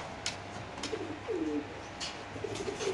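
Pigeons cooing at a pigeon farm, several soft low coos rising and falling in short phrases amid a steady background hum, fairly close and unaccompanied by speech.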